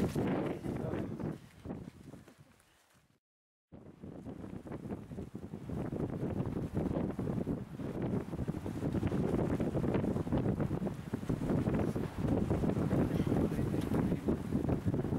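Strong wind buffets the microphone on Noordhoek Peak, a loud continuous roar that drops away briefly for a moment before surging back and holding steady.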